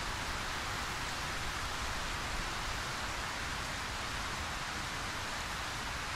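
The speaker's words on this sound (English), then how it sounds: "there's raindrops exactly where I'm standing" Steady rain falls in the video game Ylands, a dense, even hiss of drops that holds at the same level throughout with no voices over it.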